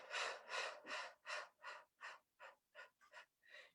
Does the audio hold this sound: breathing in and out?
yes